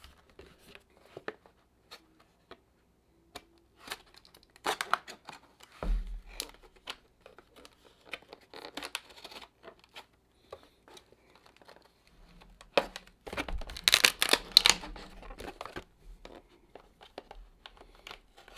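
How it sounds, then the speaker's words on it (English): A multitool's cardboard box and packaging are opened in scattered, quiet bursts of crinkling, tearing and tapping over about twenty seconds, with a busier stretch of rustling near the end and no talk. "Let's go ahead and open the box."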